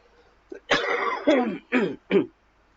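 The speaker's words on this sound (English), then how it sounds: "pardon my coughing." A person clears their throat and then gives a few short, rough coughs in quick succession, close by, with no talking.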